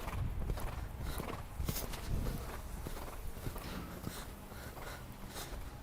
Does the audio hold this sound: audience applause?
no